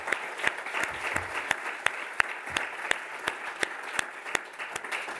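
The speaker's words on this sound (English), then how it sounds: "Let's give him another round of applause." Symposium audience clapping for award winner Michael, a dense applause with sharp individual claps standing out near the microphone, sustained evenly throughout.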